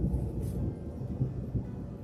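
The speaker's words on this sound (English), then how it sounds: "I told you we're gonna get a thunderstorm, you hear it?" Distant thunder before a thunderstorm, a low continuous rumble that swells and rolls faintly for a couple of seconds with no talk over it.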